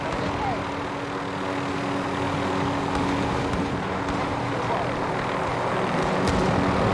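A helicopter in Call of Duty: Modern Warfare drones as a loud, continuous rotor and engine roar with a steady low hum, heard up close from aboard during a team deathmatch round.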